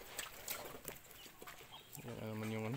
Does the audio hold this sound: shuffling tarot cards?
no